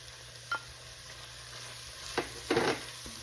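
Italian seasoning, smoked paprika and thyme being stirred into a beef cabbage soup in a pot, a few soft scrapes and knocks of a spoon over a quiet background hiss.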